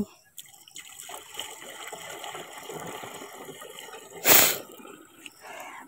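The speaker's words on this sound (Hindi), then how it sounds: "और ये जा रही है टंकी में पानी।" Water pouring into the tank of a pesticide sprayer in a farm field: a soft trickling and splashing under faint background noise, with one brief louder burst near the end.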